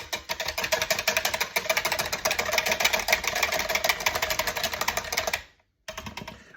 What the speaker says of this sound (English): then we're going to whisk this up